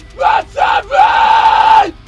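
High-pitched metal vocal scream from a vocalist, two short harsh bursts followed by one longer sustained scream, loud and close.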